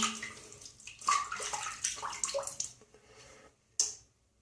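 Wet, bubbly squishing and swishing of shaving lather being whipped on the face close up, light and sudsy, irregular bursts that fade out, then one brief sharp splash.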